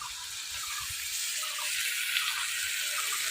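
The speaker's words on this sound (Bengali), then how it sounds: "জল দেবো" Water pours steadily into a pan of Bengali vegetable curry with Malabar spinach stems, a continuous close splashing gush that grows slightly fuller toward the end.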